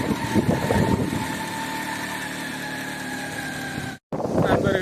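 A vehicle engine carrying a parent and son uphill on Perumal Malai near Thuraiyur runs with a steady, close mid-pitched drone, cutting out for a brief instant before resuming.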